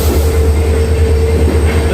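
The Mumbai CSMT–Dhule Express, hauled by a diesel locomotive, runs near Matunga with a loud, steady rumble and a sustained tonal hum, close and continuous, with no talk.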